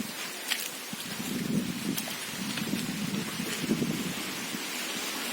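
Heavy rain pouring outdoors, a dense steady hiss with low rumbling undertones that swell and ease over a few seconds, no voices.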